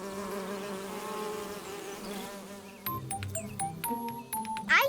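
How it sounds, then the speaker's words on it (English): Outdoors, a bee buzzes with a droning, wavering hum that holds steady before fading. Bright, sporadic chirps and clicks follow, and the sound stays moderately close but fairly quiet. "And that bee is buzzing."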